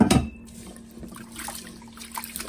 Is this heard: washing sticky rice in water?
yes